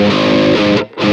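A loud distorted electric guitar rings out with sustained, saturated chords and no extra Tube Screamer boost, then cuts briefly before the next strum.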